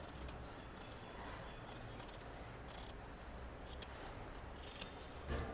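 Scissors snip through cloth while a fabric face mask is being made, a quiet, close run of small rhythmic cutting sounds with a few sharper clicks near the end, no speech.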